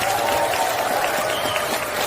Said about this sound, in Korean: 그 역할을 흔쾌히 맡아서 훌륭하게 해주신 우리 박지원 원장님께 큰 박수 부탁드립니다.